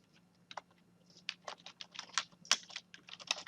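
Close, crisp keystrokes on a computer keyboard, a short burst of irregular clicks picking up speed into quick taps over a faint steady hum.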